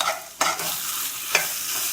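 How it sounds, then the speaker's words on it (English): Rice frying in a pan over medium-low heat, stirred with two sharp scrapes standing out over a steady soft sizzle, close and alone with no voices. "once your rice is frying"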